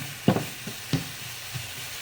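An apple stuffing mixture cooking in a pan on medium-high heat, with a soft steady sizzle under a few brief scraping stirs close by.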